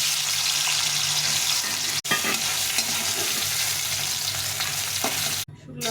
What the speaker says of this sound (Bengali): শুকনো লঙ্কা জিরে ভেজে নেবো।